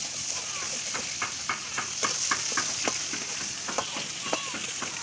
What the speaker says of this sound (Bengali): এই যে আমাদের ফিশ ভাজা হচ্ছে